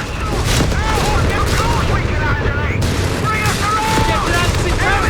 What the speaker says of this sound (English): Mortar! Bloody mortar!